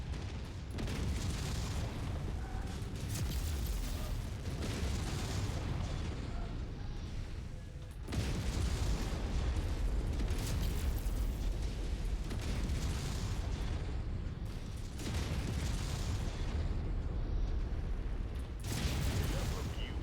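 Mech combat explosions in the video game Mechwarrior 5 form a dense, continuous roar of booms and rumbling blasts, with distinct bursts near the start and end, under faint voices.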